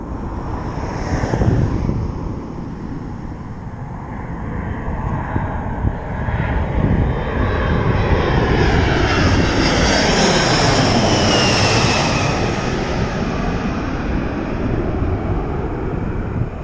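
A jet airplane roars overhead near Dulles airport, its engine noise swelling and shifting in pitch as it passes, loud and sustained throughout.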